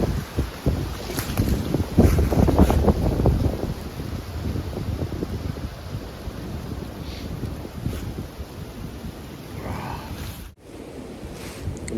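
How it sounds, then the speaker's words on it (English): Wind blowing outdoors in worsening conditions buffets the microphone in uneven gusts. The gusts are loudest and roughest early on, then settle into a softer, steady rush. "the only thing that's pushing is the wind"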